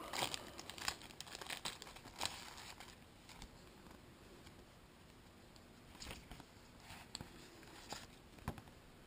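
Paper customer service card being unwrapped and handled from a box of H-beam connecting rods, with soft crinkling and rustling in irregular bursts, fairly quiet and close, with no talking.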